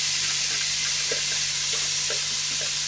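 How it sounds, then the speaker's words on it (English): A steady, loud sizzle of an onion mixture for minced lamb curry frying in a hot pan, with faint stirring scrapes and no voices. "as you'll hear that as it sizzles straight away as it hits the pan"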